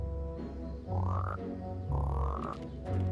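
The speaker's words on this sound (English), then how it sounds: "They turned Taylor into a frog" A frog in an animated show gives two loud, rising croaks about a second apart, each a buzzy, rubbery swell, with a short third one starting at the end.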